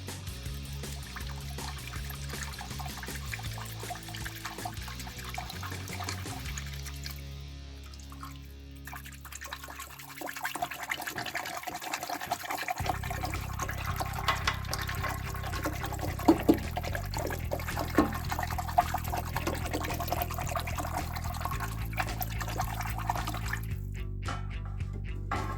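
Liquid swirls and sloshes continuously in a container as a solution is stirred during gold recovery from microchips, a steady watery churning that carries on without talk.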